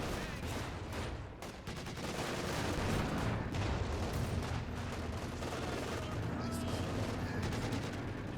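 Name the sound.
machine gun fire in Company of Heroes 2 video game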